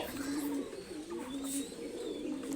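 Silver Pankhi pigeons coo in low, repeated throaty phrases, a few rolling calls close by over a quiet background with faint chirps.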